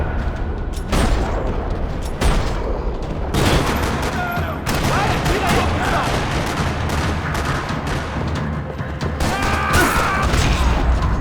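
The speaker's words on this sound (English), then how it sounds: "Another parking lot rattling with gunfire." Gunfire erupts across a parking lot in Max Payne 3, dense bursts of automatic fire and heavy booming shots rattling almost continuously, loud and close, with crashes scattered through the barrage.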